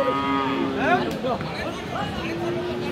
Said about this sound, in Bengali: এই অলস গরু তো দেখতেছি